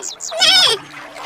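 A single goat bleats once, loud and close, a brief wavering cry.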